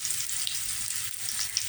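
Onion frying in oil in a pan for a roll stuffing, an even, close sizzle with light crackles and spits, heard alone.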